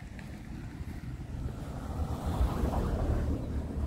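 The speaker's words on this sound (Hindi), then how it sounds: "ठंडी हवा चल रही है कि थकान फील ही नहीं हो रहा" Cool wind blows across the hills near Shimla, a low rumbling gusty roar buffeting the microphone that builds gradually and stays loud and continuous, with no talking.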